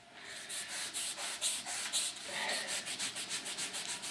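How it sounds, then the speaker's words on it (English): A cork rubs wax into a ski base in quick back-and-forth strokes, a close, steady rasping scrub that repeats rhythmically for several seconds with no talk. "we're going to go in with the cork and rub it in and generate some heat and get that to bond with the base material of the ski"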